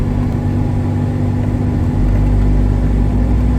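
A 1985 Toyota SR-5 pickup with a 22RE engine drives around the block, its steady mid-pitched engine hum loud and close from inside the cab, swelling slightly as it accelerates partway through.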